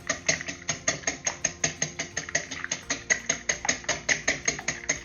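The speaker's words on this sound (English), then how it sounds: "Now it's time to whisk my batter." Whisk beating egg batter for French toast in a bowl, a steady fast rhythm of sharp clicking strokes against the sides, close and clear with no talking.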